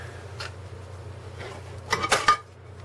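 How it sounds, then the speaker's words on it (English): A couple of soft clinks, then a quick burst of metal clattering as a frying pan is set down on a homemade metal cook pot stand, against a low steady hum. "You can even put a frying pan on it."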